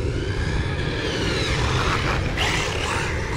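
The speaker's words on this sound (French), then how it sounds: "C'est un avion de l'armée." A steady, broad roar of a military jet engine overhead fills the air, rumbling low with a rushing hiss, continuous and fairly distant.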